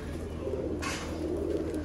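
Pigeons coo in a low, continuous murmur close by, with one brief rustle partway through and no voices.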